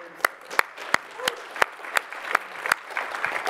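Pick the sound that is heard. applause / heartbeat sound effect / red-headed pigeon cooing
applause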